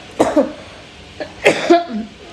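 Two bursts of harsh night-time coughing with a sore throat, close to the microphone, each a pair of rough hacks separated by a short pause.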